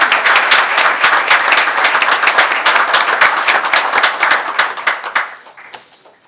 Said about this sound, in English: Please join me in a round of applause for all of them.